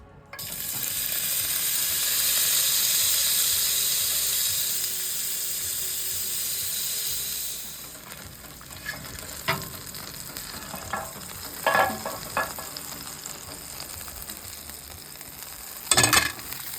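Smoked venison backstrap sears in an oiled skillet with a loud, steady sizzle that settles lower, then gives way to several distinct clanks and scrapes of the pan, one sharp knock near the end.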